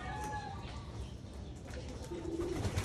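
Pigeons in a breeder's loft in the Philippine countryside coo softly at a distance against a low rumbling background, with a brief chirp or two and faint room noise.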